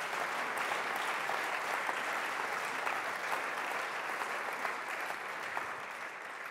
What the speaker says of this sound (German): lassen Sie uns das einen kleinen Applaus wert sein